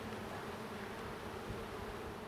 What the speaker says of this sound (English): there's a lot of fuzzy bees in this hive